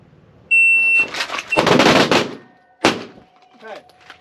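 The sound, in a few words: shot timer beep then gunfire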